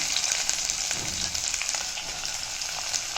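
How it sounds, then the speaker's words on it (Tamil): Finely chopped large onion sizzles and fries in hot oil in a pan, a steady close crackling hiss throughout with a brief low stirring rumble, no voices. "இதில் ஒரு பெரிய வெங்காயத்தை பொடி பொடியாக கட் பண்ணி வச்சுருக்கேன் அதை போட்டுக்கிறேன்"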